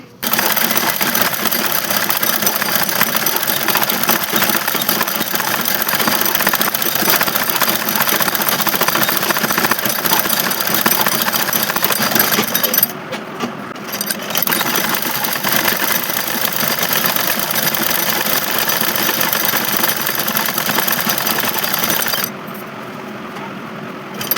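A sewing machine runs a single line of stitching to attach a fall to a saree, whirring loudly and steadily with two brief pauses, close up and without talk.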